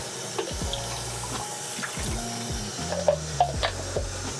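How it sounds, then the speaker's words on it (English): Tap water running and splashing while a photographic RA-4 print is rinsed in a darkroom sink, a moderate steady wash with low gurgles and a few sharper drips and knocks. "quickly just rinse that back off."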